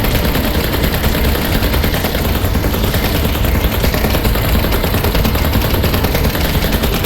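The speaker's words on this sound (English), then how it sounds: "No chance we can kill it, but the minigun might slow it down." Sustained minigun fire in the Vertigo 2 VR game, aimed at a huge Archaeosaurus in misty caves: a dense, continuous roar of rapid shots that stays loud and unbroken from start to finish.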